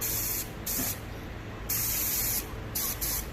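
Bursts of hissing spray from a pressure sprayer tank releasing air, three separate blasts of steady broadband hiss with short pauses between them, close and fairly loud.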